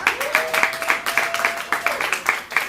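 An audience at a poetry night claps steadily, a dense patter of hands that continues without a break, with a faint tone running underneath.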